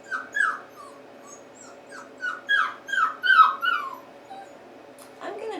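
Young female puppy whimpering in a string of soft, high, quivering whines and yips, close by, with short pauses between cries.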